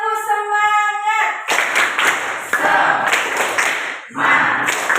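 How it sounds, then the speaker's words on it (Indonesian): A classroom of students performs the 'tepuk semangat' spirit clap, a patterned sequence of rhythmic group clapping in bursts, following a sung or chanted opening and with voices mixed in throughout. "Kita tepuk semangat dulu ya."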